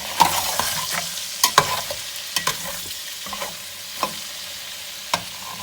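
Mutton being stir-fried (bhuna) in a pot for Peshawari pulao, a soft steady sizzle broken by scattered sharp scrapes and clinks of a stirring spoon, no voices.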